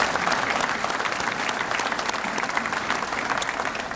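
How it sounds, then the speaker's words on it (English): Audience at a policy review day gives a sustained round of applause, dense steady clapping from a large crowd that fills the room without a break. "I'd like to hear you give them a round of applause"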